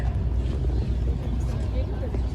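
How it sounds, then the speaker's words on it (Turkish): A ferry's engine rumbles low and steady while passengers board, a constant deep drone with wind and general noise from the crowd around it. "Şimdi vapura biniyoruz."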